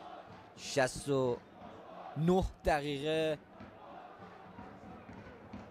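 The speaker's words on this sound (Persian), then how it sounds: "مدام دارن تشویق میکنن تیم داماش" A football stadium crowd cheers and chants for Damash Gilan in a steady, distant roar beneath loud, close commentary that speaks over most of it.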